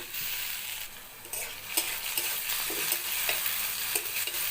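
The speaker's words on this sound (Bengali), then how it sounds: "টমেটো আর পেঁয়াজটা ভেজে নিচ্ছি" Chopped onion and tomato frying in mustard oil in a pan, a steady close sizzle with scattered crackles and the scrape of stirring throughout.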